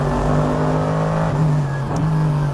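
Onboard a Mercedes-AMG GT3 race car on the Nürburgring GP short circuit, the engine roars as a loud, steady, close drone that dips briefly and then holds.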